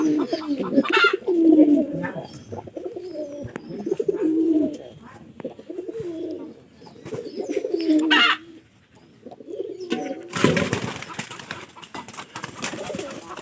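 A pair of pigeons cooing up close, with repeated throaty coos in bursts separated by short pauses, and a louder rustling or flapping noise near the end.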